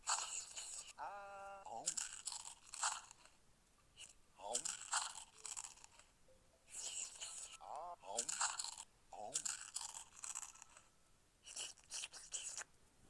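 Crispy fried food being eaten with ketchup, close loud crunching bites in bursts separated by pauses, with a person talking in between.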